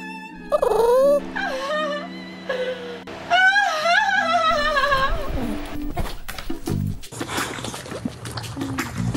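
A dog whimpers with rising and falling high whines in the first few seconds, then gives way to shuffling and rustling noise.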